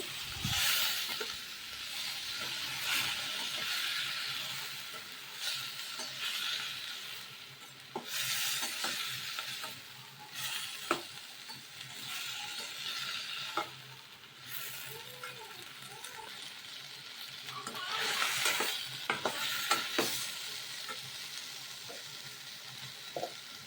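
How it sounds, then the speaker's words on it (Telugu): Chopped tomatoes fry in oil for a tomato-mint chutney, a steady broadband sizzle broken by scraping stirs and clinks of a utensil against the pan, close and moderately loud throughout. "ఇప్పుడైతే కొంచెంసేపు ఇట్లా ఫ్రై అయిపోతే తొందరగా మగ్గిపోతాయి టమోటాలు"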